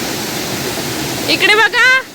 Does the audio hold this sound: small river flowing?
yes